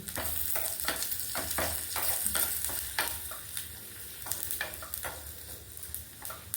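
Soft sizzling of tempering spices with asafoetida frying in a little oil, with repeated scraping stirs and light clicks of a spoon against the pan.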